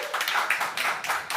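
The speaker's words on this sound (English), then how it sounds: "So give a warm round of applause for Antanas," A tech meetup audience claps to welcome a speaker named Antanas, a short burst of close, moderate clapping in uneven rhythm.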